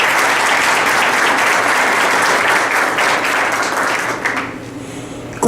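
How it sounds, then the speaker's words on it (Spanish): Loud, dense applause from an audience at a forum on indigenous shelters in the Sierra Tarahumara, sustained steadily before tapering off near the end. "Les pido un aplauso."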